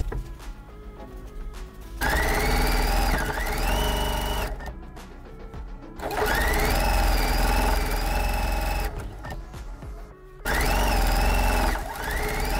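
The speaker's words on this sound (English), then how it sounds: "start sewing your 1/4 inch seam" A sewing machine runs in steady bursts while sewing quarter-inch seams on pinwheel quilt block pieces, its loud motor whir stopping briefly twice between runs.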